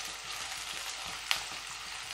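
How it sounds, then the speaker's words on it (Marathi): Onion fries in a pan for a spicy besan-dumpling curry, a steady close sizzle with one brief sharp click partway through and no talk. "कांदा प्रथम थोडासा लालसर रंगावरती भाजून घ्यायचा आहे"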